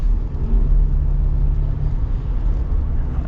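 A 2025 Jeep Wrangler 2-Door with a 2.0 turbo engine drives along in a steady, loud, low rumble with a faint whir on top, heard alone without any talk.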